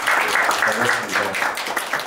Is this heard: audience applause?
yes